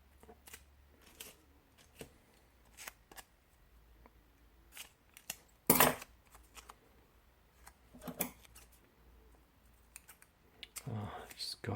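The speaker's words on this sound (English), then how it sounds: "Nothing quite as fun as cutting a bit of masking tape with a pair of scissors that aren't great." Blunt scissors snip through masking tape in a quiet indoor room, a series of sharp irregular cuts with one loud close snip midway and rustling near the end.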